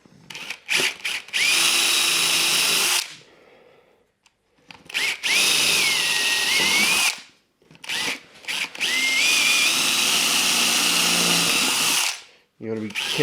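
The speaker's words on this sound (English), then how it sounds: "Just back with that 4mm drill bit." A power drill fitted with a 4mm bit bores into timber in three long whining bursts separated by pauses, close and loud, with brief knocks and handling noises between runs.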